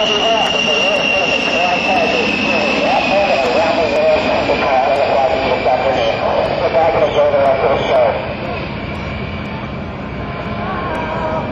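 An A-10 Warthog jet makes a slow speed pass at an airshow, its loud, broad engine roar with a high whine holding for about eight seconds and then easing off, while an announcer-style voice runs underneath.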